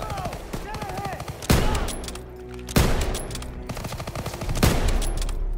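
Call of Duty WW2 gunfire comes in bursts of rapid automatic fire with several sharp, loud, close shots, and voices and game sounds play between the bursts.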